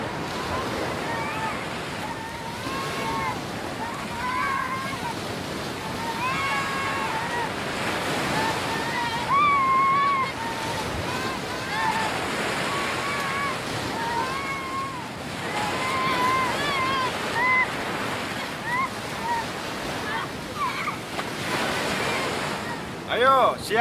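Ocean surf rolls and crashes on a shore in a dramatized period setting, a continuous, loud roar of breaking waves mixed with wind, with distant voices faintly calling out over the water.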